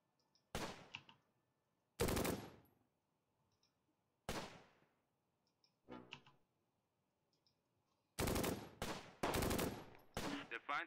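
Gunfire and tank cannon shots from a tank battle video game come in sharp, loud separate blasts, each with a short decaying tail, then a quick cluster of rapid shots near the end, set against near silence.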